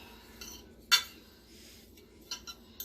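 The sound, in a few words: mixing chicken parm ingredients with a fork in a bowl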